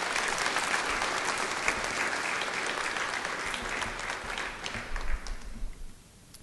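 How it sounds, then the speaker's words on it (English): An audience at a school desegregation anniversary event applauds for a coach, a steady roar of clapping that thins and fades out over the last second. "Let's give another round of applause for Coach Graham."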